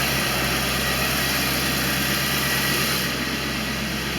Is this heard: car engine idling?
yes